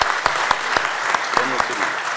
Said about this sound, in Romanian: Mai aplaudăm.